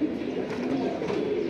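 Pigeons in a flying-breed collection coo softly and continuously nearby, a low throaty burbling that runs through the whole short moment.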